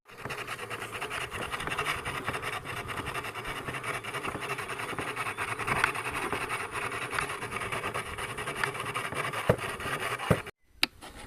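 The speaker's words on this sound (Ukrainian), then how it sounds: "хоч шліфується довше, але зато виходить якісно рівно" Steady abrasive sanding of an electric motor armature, a continuous gritty rasp that holds evenly for several seconds before a brief pause near the end.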